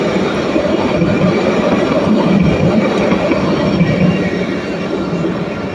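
A train rolls steadily past a spot beside a Coffee Bean café in Israel, a continuous loud rumble of wagons and wheels with a faint high squeal, holding level for several seconds with no speech.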